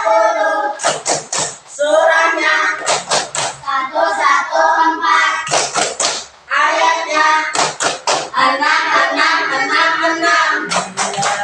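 Children chant a Quran-themed clapping rhyme in a classroom lesson, their voices loud and close in rhythmic unison. Sharp bursts of hand claps punctuate the chant in repeated groups.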